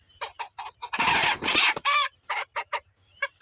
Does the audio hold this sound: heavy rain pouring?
no